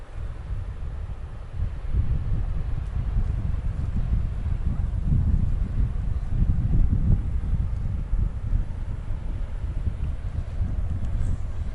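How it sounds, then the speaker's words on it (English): Wind blows steadily outdoors on a mild early winter day in Alexander Wilderness Park in Lethbridge, Alberta, a rough low rumble buffeting the microphone with gusty swells and no voices. "We have our usual wind going on here"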